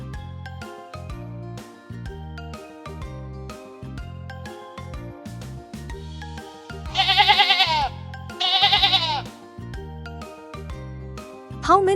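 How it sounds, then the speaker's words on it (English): Sheep on the grass give two loud wavering bleats over a cheerful plucked melody, with a brief jingle at the close. "How many sheep are on the grass?"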